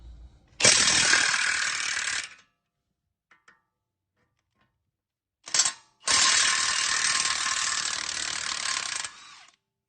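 Ratchet wrench loosening Blue Loctite-secured brake caliper bolts on a Mercedes GL450 (X166), two loud bursts of rapid clicking, one about two seconds and one about three and a half, separated by a quiet gap with a few faint knocks.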